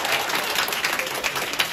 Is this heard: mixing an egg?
no